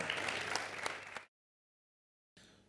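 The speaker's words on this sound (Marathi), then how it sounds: "जोरदार टाळ्या." Studio audience applauding during a Marathi TV comedy show, a loud burst of clapping for just over a second that cuts to silence, then briefly resumes faintly.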